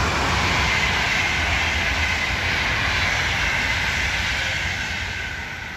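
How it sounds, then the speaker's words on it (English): An ICE high-speed train rushes past in Wolfsburg, Germany, a loud, steady broadband roar that holds close for several seconds before beginning to fade as it moves away. "ये जो है अभी ICE गुजरी है जहाँ पे high speed train है"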